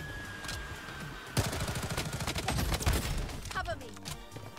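Rapid MP5 submachine gun fire in the mobile shooter Bloodstrike comes in a loud sustained burst after a short quiet stretch, then fades into scattered shots with brief game sounds at the end.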